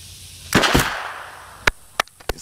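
Gunshots from a handgun being fired during shooting practice: one sharp report followed by a quick echoing second, then three more spaced, loud cracks, alone with no talking.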